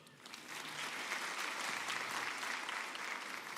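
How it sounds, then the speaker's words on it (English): Audience applause at a University of South Africa graduation ceremony: a dense, even wash of many hands clapping at moderate distance, sustained throughout without voices. "I think our academics as well deserve a round of applause."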